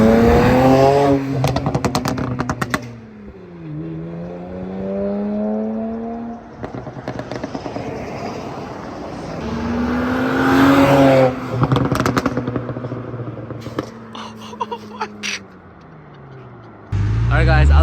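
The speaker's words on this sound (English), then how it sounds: "All right, we'll do a drive-by." A BMW 335i with an MHD and JB4 burble tune revs and drives past, its engine note rising and falling through the gears, loud and near, with crackles and pops.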